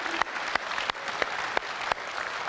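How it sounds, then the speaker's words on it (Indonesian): An audience at a 2019 Indonesian presidential debate claps, with a few sharp, distinct claps standing out over a softer wash of applause, moderately distant. "Boleh tepuk tangan untuk memulai segmen ini?"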